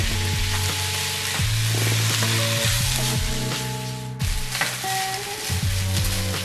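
Broccoli added to a pan with salmon in sauce sizzles and fries steadily, with clinks and scrapes of stirring and background music playing throughout.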